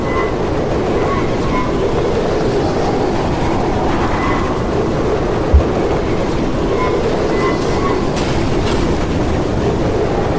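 Train-like rumble and clickety-clack from a Portal 2 cutscene, the opening sounds of World 2 Chapter 2, The Cold Boot, a steady dense rolling noise that runs throughout with one brief knock midway.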